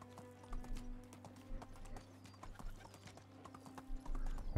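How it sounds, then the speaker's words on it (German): Horse hooves clip-clop steadily at a riding pace in the medieval game Medieval Dynasty, with a brief whinny, close and clear over a soft background drone with no talk. "Und jetzt per Pferd"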